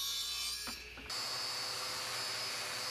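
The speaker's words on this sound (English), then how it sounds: "I ripped a few strips of plywood to act as the frame and cut them to length." A saw cuts plywood strips to length in a woodworking shop, a dense rasping cut that stops briefly, then resumes as a steady, brighter whine.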